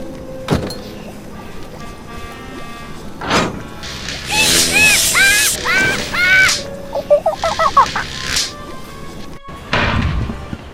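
Parrots squawk in the video game Tales of Monkey Island, a run of loud, close, rapid calls in bursts broken by thumps and short gaps.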